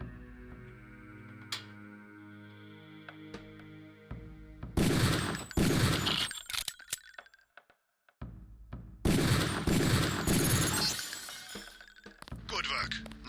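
Gunfire at shooting range targets in Deus Ex, with a few sharp single shots followed by two long, loud volleys of rapid crackling impacts and breaking sounds, separated by a brief quiet gap.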